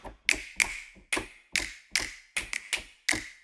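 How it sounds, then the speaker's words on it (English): Body-percussion slaps from the Renegade library, about nine sharp close smacks spaced in an uneven rhythm, each with a bright snap and brief ringing tail, dry and unaccompanied. "slaps."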